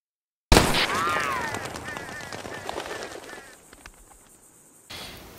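Lancaster rifle fired in Red Dead Redemption 2, a sharp loud shot followed by a long decaying echo and rattling tail, with a brief burst of other game sound near the end.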